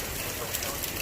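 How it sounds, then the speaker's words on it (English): Heavy rain during a severe Father's Day storm with flood advisories out, a dense, steady hiss of drops pounding the surface, loud and close with no voices. "With as heavy as this rain is and all that"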